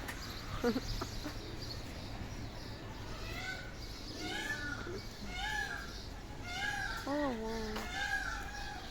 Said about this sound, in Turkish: Miyav ediyor.